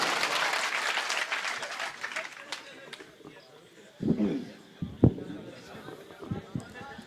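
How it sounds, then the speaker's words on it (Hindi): An audience at a kavi sammelan poetry gathering applauds loudly at first. The clapping thins out and gives way to a voice speaking over scattered claps and knocks. "एक बार जोरदार तालियां बजाइए।"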